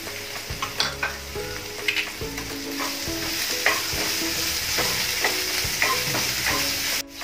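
Spice masala for stuffed capsicum sautéed in a pan: a steady close sizzle with repeated scraping stir strokes, clattering at an irregular rhythm throughout, with no talk.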